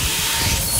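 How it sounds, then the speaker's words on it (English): A heavy airlock hatch in the video game Dead Space Remake shuts with a dense mechanical ratcheting clatter and a hissing rush, loud and close, lasting under a second with no talk. "Close the hatch."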